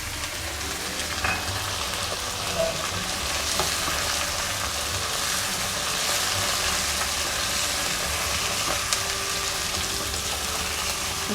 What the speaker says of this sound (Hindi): इसको जब तक भूनेंगे जब तक गोश्त का थोड़ा सा पानी इसमें से ख़त्म हो जाए।